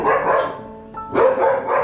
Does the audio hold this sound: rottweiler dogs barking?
yes